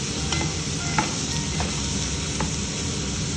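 Frozen holy basil being stir-fried in a pan, a steady soft sizzle with a few light scrapes of the spatula, close and continuous with no talking.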